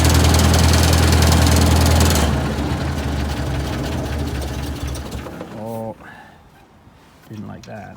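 A carbureted vehicle engine runs loud and close, then eases to a rougher, quieter idle with rattling mechanical noise, and a voice speaks briefly near the end.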